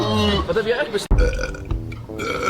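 A loud, low, rumbling burp from one of the Bankzitters erupts right after a sharp break, mixed in with lively Dutch talk from several people.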